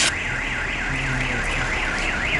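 A Suzuki SX4 car alarm sounding after the car was unlocked with the key fob: a loud, continuous warbling siren that rises and falls in a steady rhythm, close and alone.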